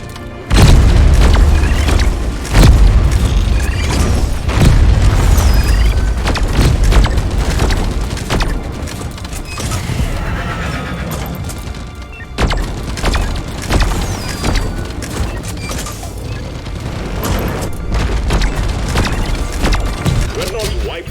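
Booming explosions and rapid gunfire in a chaotic video game battle, loud and dense, with repeated heavy blasts and clattering shots, while a player talks over the action.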